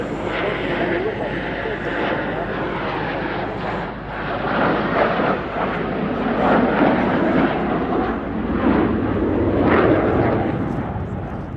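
Frecce Tricolori solo jet aircraft performing a display maneuver at RAF Fairford, a loud, continuous roar of jet engine noise that swells and surges, with a commentator talking over it.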